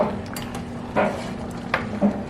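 A spoon stirs seasoning into a pot of seafood gumbo, giving a few scattered metallic clinks and scrapes against the pot, fairly close, over a low steady hum.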